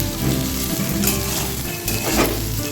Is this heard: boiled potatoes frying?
yes